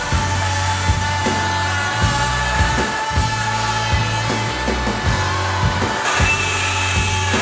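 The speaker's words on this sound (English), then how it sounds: "we're going to give the multi-tool a go with a new blade" A Bosch Starlock MultiMax oscillating multi-tool fitted with a new carbide blade cuts through metal cable tray, giving a loud, steady buzzing drone broken by brief dips and pulses as the blade bites and the cut shifts.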